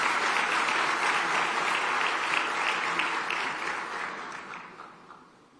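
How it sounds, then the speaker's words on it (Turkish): Sustained crowd applause for the fans after a Galatasaray club president's speech, steady dense clapping from a large audience that gradually fades out. "Buradan taraftarımıza da büyük bir alkış göndermek istiyorum."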